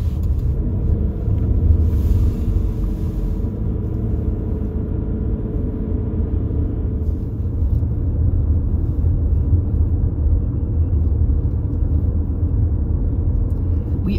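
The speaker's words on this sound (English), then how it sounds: "Driving now into the direction of Locarno" A car interior rumbles steadily on the road toward Locarno, Switzerland, with a constant low engine and tyre drone that stays loud throughout with no talking.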